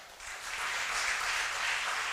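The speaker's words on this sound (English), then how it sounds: "a big round of applause for faculty coordinators, Sanil Kumar and Dr. Joshia." An audience at a national college seminar on business ethics applauds its faculty coordinators, a dense, steady wash of many hands clapping that builds slightly and holds at full strength, heard without any talk over it.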